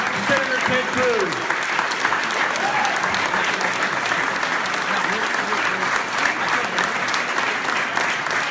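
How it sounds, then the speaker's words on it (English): Sustained applause from an audience at a Senator Ted Cruz campaign event in Edwards Barn, Nipomo, San Luis Obispo County, steady and full for over eight seconds, with some voices mixed into the clapping. "Round of applause for Senator Ted Cruz."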